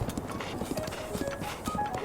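Rhythmic clip-clop of horse hooves galloping steadily in the video game Breath of the Wild, soft and continuous beneath background game music.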